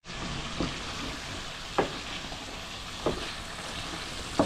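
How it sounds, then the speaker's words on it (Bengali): Chicken sautéed in a pan for a giant taro curry, a continuous frying sizzle broken by four spaced scraping strokes of the spatula, close up. "চিকেনটা ভালোভাবে কষিয়ে নিই"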